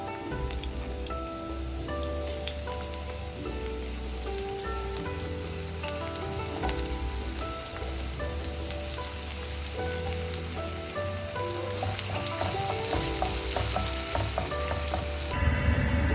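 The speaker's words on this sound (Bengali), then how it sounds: "আমি কিছু কুচানো পেঁয়াজ দিয়ে দিচ্ছি, বেরেস্তা করে নেব এই পেঁয়াজগুলা" Chopped onions frying in a mix of mustard and soybean oil for a chicken curry, making a dense, continuous crackling sizzle under music that swells slightly toward the end.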